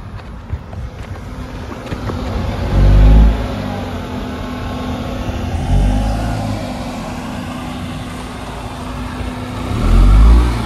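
A Tata Punch car drives over a ridge crossing on rough ground, its engine rumbling with a couple of louder revving surges, under steady wind noise on the microphone.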